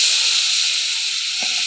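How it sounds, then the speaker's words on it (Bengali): Water poured onto spice paste frying in a pan for a potato fish curry sends up a loud, steady hiss of steam that fills the short moment from start to end, with no talk. "তাই একটু জল দেবো এটা সেদ্ধ হওয়ার জন্য।"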